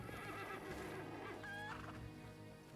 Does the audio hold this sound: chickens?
yes